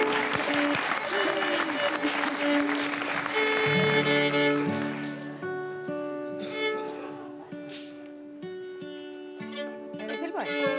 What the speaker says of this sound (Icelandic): Já, klappa fyrir Sammi.